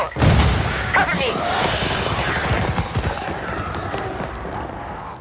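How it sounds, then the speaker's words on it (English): A door is breached with an explosive in the video game Rainbow Six Extraction, with a loud blast followed by bursts of gunfire and booms in a dense, chaotic firefight, with voices over the noise. "Nomad, blow the door."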